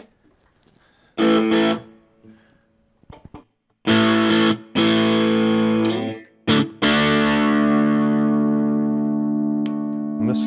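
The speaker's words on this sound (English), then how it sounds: "let's try some distortion there" An Aria Pro II electric guitar played through distortion: loud, gritty chords struck in short bursts, then a long chord left to ring out and slowly decay.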